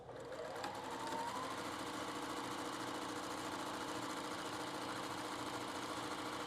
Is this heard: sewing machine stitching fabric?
yes